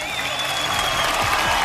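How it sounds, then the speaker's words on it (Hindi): A brief burst of dense audience applause, continuous and fairly loud, with crowd noise at a live stage show. "एक बार जोरदार तालियां हो जाएं"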